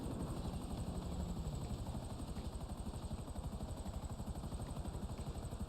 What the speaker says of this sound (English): Helicopter is bugged.